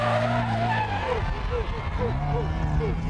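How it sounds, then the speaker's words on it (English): A production Toyota Starlet rally car on a stage of the 2001 Barbados Rally Carnival, engine revving loud and close with rising gear-change sweeps and tyre skids, a voice speaking over it. "So James Betts in his production Starlet is the first car we see on the road"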